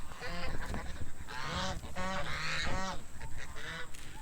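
Several geese honk loudly and repeatedly in close range, overlapping calls rising and falling in a noisy, excitable chorus.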